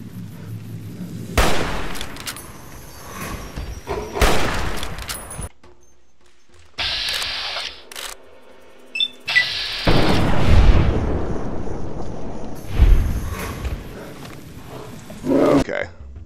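Gunshots from the video game Fallout New Vegas ring out in loud, sharp bursts, several blasts scattered through the clip with quieter gaps between them.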